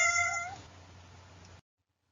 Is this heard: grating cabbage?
no